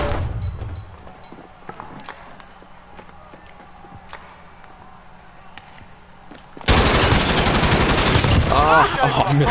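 Loud, dense burst of automatic gunfire from a weapon in Call of Duty Warzone erupts abruptly after quieter footsteps and ambient noise, sustained close and harsh to the end.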